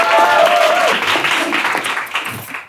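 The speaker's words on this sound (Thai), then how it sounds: "ขอเสียงปรบมือให้กับผมหน่อยครับ" A live comedy roast audience breaks into applause, with a brief whistle-like cheer at the start, before the clapping tapers off and dies away.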